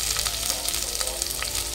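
Onions fry in oil until reddish for a Malvani egg curry, a dense, steady close sizzle with small crackling pops throughout.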